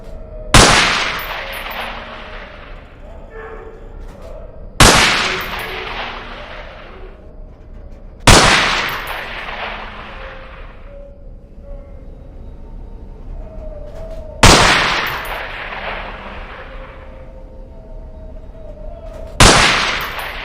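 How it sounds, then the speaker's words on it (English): In the UnderHell video game, an MP5 submachine gun fires at pop-up targets in a shed, sharp loud single shots spaced several seconds apart, each followed by a ringing decay. "Let's get to the submachine guns now. Pick up that MP5."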